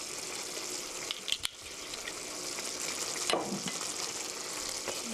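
Mapo tofu seasoned with sesame oil sizzles steadily in a pan while it is gently stirred, a constant close frying hiss broken by a few soft scraping strokes and clinks.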